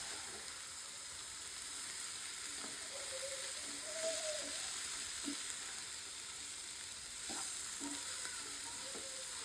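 Dried chili frying with cauliflower and beans in a pan: a steady, bright sizzle throughout with occasional soft stirring scrapes and clinks, close and continuous, without talking.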